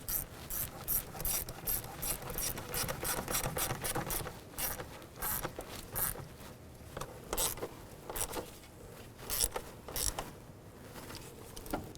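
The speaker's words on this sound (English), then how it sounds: "Let's go ahead and tighten up our hose clamps here." Quick metallic ratcheting clicks in bursts, a hose clamp on the PCV valve hose of a 2001-2007 Ford Escape being tightened up close, with short pauses between runs of clicks.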